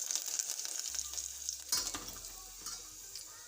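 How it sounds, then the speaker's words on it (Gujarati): Whole cumin seeds, asafoetida and curry leaves hit hot oil in a pan, giving a bright, steady sizzle with a sudden louder crackling burst as the leaves go in, then settling into a gentler fry. "તેલ ગરમ થઈ ગયું છે, આપણે આખું જીરું પહેલાં નાખશું, ત્યારબાદ હિંગ નાખશું, મીઠી લીમડીના પાન છે"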